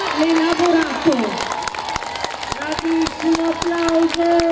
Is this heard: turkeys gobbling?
no